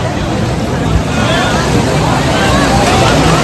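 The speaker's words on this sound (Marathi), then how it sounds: "बोट सफारी जोरात चालू आहे" A boat on a sea safari ride near Coral Island, Thailand, with steady engine and water rush and wind buffeting close to the microphone. The broadband noise holds continuous and loud throughout, with faint crowd babble underneath.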